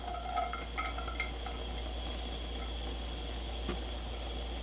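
Garlic sizzles in a heated pan of oil, a soft, steady frying hiss that stays faint and continuous with a few light clinks, no talking.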